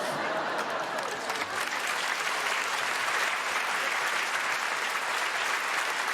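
A theatre crowd at a French comedy show applauds loudly and continuously, a thick unbroken roar of clapping that holds steady to the end.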